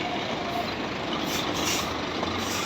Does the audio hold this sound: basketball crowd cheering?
no